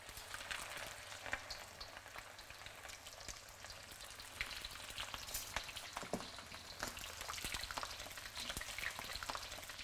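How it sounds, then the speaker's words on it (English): Prawns deep frying in a wok for cereal butter prawns, a steady, close crackling sizzle of hot oil with brief popping bursts throughout, no talking. "you don't want to overcrowd the wok and then just start stewing rather than deep frying"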